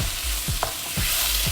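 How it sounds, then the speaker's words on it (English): Diced tomatoes hit a pan of frying spices with a steady loud sizzle, while a spoon stirs in a few quick scraping strokes. "to this we add 3 tomatoes that we've diced"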